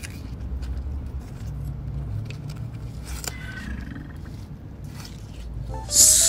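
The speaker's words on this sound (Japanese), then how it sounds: "これアルダブラゾウガメが興奮した時とかに出る声なんですよ" An Aldabra giant tortoise, excited while eating watermelon, gives a low, drawn-out rumbling groan that stays steady for several seconds, with a louder burst at the end.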